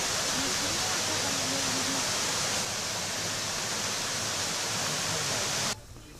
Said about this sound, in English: This is Pornas waterfall.